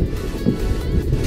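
Strong wind at sea buffets the microphone on a fishing boat, a steady, loud low rumble with gusting swells and no clear voice.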